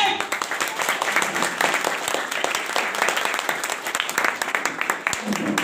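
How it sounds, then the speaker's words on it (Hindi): An audience at a motivational speaking event claps continuously, a dense patter of hand claps filling the whole stretch at moderate volume. "एक बार जबरदस्त ताली होनी चाहिए"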